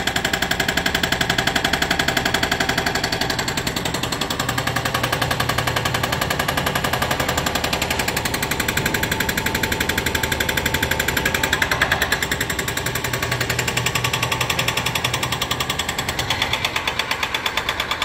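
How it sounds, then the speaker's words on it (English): At an apartment construction site a jackhammer pounds away continuously, loud and close, in a dense rapid rattle that barely pauses across the whole stretch, with no speech. "And over here we're using a jackhammer."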